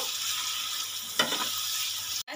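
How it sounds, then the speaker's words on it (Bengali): A paste of ground cumin and coriander sizzles steadily in hot oil, with a soft scrape of stirring midway and a short break just before the end. "এবারে সবগুলো আমি একটু ভালো করে কষিয়ে নেব"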